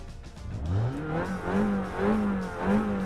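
A GT4 race car engine in Assetto Corsa Competizione at Oulton Park revs up and down in about four rising and falling swells, a buzzy, throaty whine that stays close and fairly loud.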